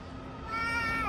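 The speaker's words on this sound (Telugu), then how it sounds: "క్యాట్." A cat gives a single drawn-out meow with a rising and falling pitch, moderately close, over a steady low background hum.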